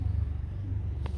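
Royal Enfield Bullet motorcycle engine idling up close in Coimbatore, a steady low rumble with a faint thump near the end.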